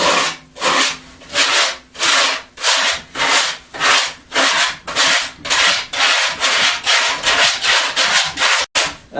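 A rasp scrapes back and forth across a whitetail deer mount form in a crisscross pattern, making about twenty steady, close, loud rubbing strokes in an even rhythm with no talking.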